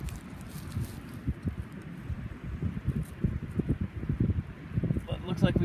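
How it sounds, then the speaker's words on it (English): Wind buffets the microphone outdoors while someone metal detects near the top of a hill at a campground. A low, gusty rumble with rustling bursts runs the whole way through and rises toward the end. "Don't know how well you can hear because it's pretty windy"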